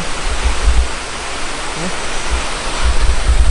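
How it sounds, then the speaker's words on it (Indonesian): A waterfall roars as a continuous broadband rush of falling water, close and loud, with low wind-like rumbles and faint speech underneath. "Situ ada juga air terjun yang gitu."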